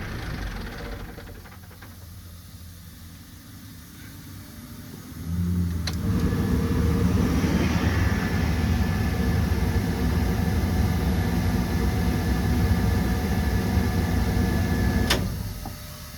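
A grapple truck's engine cranks and catches about five seconds in, then settles into a steady, loud idle with a brief rev near the end, heard close up with no talking.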